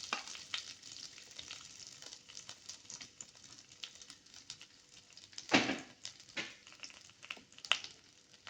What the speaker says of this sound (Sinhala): ලුණු ටික එහෙම ටිකක් තෙලේ බැදෙනකොට